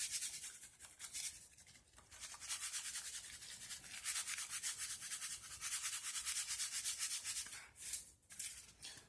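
Dry rub is sprinkled over ribs and butter, a steady close-up hiss of grains pattering down in quick repeated shakes, with brief pauses, and no voices.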